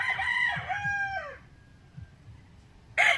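A gray gamefowl rooster crows once, loud and near, with a long wavering call that fades out, and a second crow starts abruptly at the very end.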